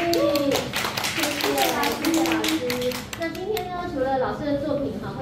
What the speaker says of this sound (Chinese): 我们再给郭老师一个掌声鼓励。